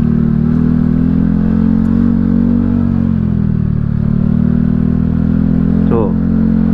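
A Honda Scoopy scooter rides over a broken, rough road on the way up to Puncak, its engine a steady, close, continuous drone. Wind noise runs throughout, and a voice is briefly heard near the end.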